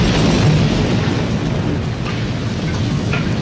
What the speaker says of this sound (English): an explosion like this